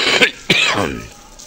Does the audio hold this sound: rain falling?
no